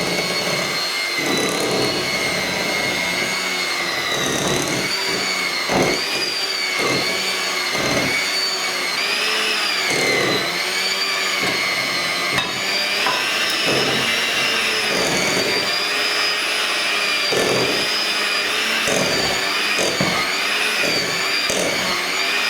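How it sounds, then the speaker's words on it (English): An electric hand mixer beats soft chocolate frosting for a chocolate cake, giving a steady loud whir with bursts and shifts as the beaters move around the bowl, with no talking. "So you want to be able to move the mixer around."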